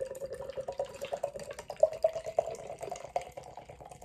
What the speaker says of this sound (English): it takes ages to pour because it's such a big pint of beer